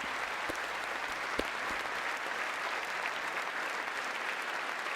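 A crowd applauds steadily for several seconds at the 2022 State of the Union address, a dense wash of clapping at moderate distance with no voices standing out.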